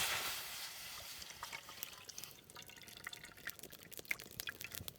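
Water is poured into a pot in a village kitchen to make jaggery syrup, heard as a faint splash and trickle followed by scattered drips, quiet and close.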